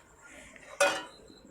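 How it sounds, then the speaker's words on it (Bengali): Rice flour being stirred into a grated coconut mixture in a bowl: a faint quiet background, then one short, bright scrape and clink of a spoon against the bowl, close and brief, with no talk. "এবারে দিয়ে দেবো চালের গুঁড়া, আর এভাবে নেড়ে মিশিয়ে নেব।"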